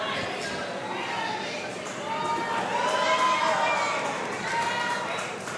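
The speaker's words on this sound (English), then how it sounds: "You can hear the crowd a buzz for Danni B." A large wrestling crowd murmurs and buzzes steadily, with scattered shouts rising and falling in a big, echoing space.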